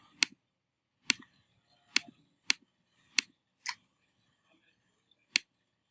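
Computer mouse clicks in a hydrogen emission spectrum simulation, about seven sharp, close clicks spaced irregularly with quiet between them.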